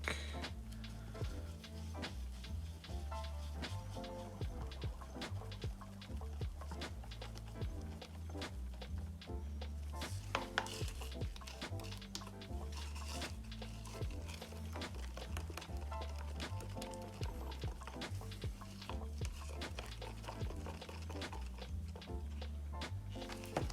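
Glitter being stirred into resin for snowflake castings, giving a steady run of quick scraping ticks and clicks under constant background music.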